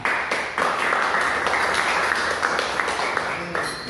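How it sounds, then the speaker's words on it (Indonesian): Applause from a classroom group for a student who just read aloud about a Bible figure, a steady wash of clapping lasting several seconds at moderate loudness. "berikan tepuk tangan"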